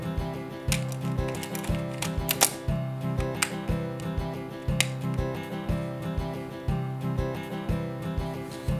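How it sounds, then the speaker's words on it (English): The advance lever on a 35mm film camera ratchets through repeated winding strokes, a steady series of close mechanical clicks and whirring gear sounds with brief pauses between them. "Insert the film leader into the slot on the take-up reel and wind the film on with the advance lever."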